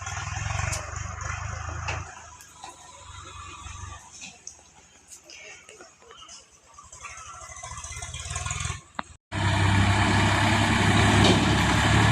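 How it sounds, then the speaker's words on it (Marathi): A tractor engine idles with a low rumbling drone and rattling, cuts out briefly near the end, then returns loud and close. "ट्रॅक्टर आहे काय"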